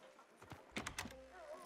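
Horse hooves clip-clopping in the Red Dead Redemption 2 video game: a few quick, fairly faint hoof strikes in an uneven cluster, with a soft tonal game background continuing afterward.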